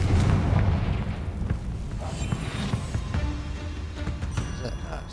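Confringo fire spell cast in Hogwarts Legacy on hardcore mode, a heavy booming blast at the start rolling into a long rumbling crackle that fades gradually, with game ambience and scattered debris sounds behind it.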